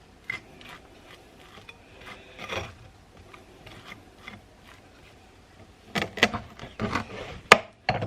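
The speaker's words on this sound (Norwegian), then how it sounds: "Skal vi skjære en skive" Homemade sourdough bread, a first loaf fresh from the oven, being sliced with a knife: quiet rasping strokes at first, then a louder burst of crusty sawing near the end.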